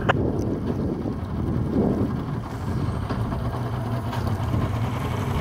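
A rescue boat's engine idles slowly on the water during a disabled-vessel training exercise, a steady low rumble with constant wind buffeting the microphone throughout.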